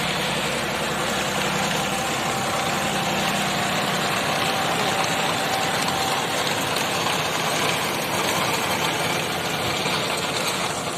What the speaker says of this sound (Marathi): जॉन्डियर ट्रॅक्टर आहे ताकद ताकदीचा ट्रॅक्टर आहे हे धनुभाव अशा पद्धतीने शांतपणे रोटर करतायत